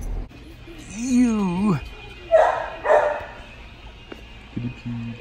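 A dog gives a few barks and yips at close range, with a whining, rising bark at first, over a low background hum.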